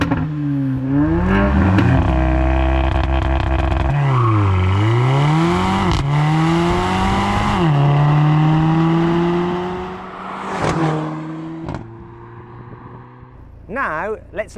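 Older Mercedes-AMG A45 with a 2-litre turbocharged four-cylinder, revved repeatedly from idle in loud rising and falling sweeps with crackles between blips, close up, settling back toward idle near the end.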